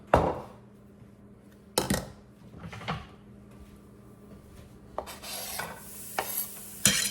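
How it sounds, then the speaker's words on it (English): Onions fry briefly in olive oil for a breakfast fried rice while a spatula stirs them. Only a faint, soft sizzle comes through, broken by several distinct scrapes and clanks against the pan. "we're gonna fry up our onions for just about 30 seconds to a minute at first"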